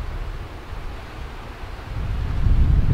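Wind gusts across an open golf course, buffeting the microphone with a low rumbling roar that swells and grows stronger toward the end, with no voices.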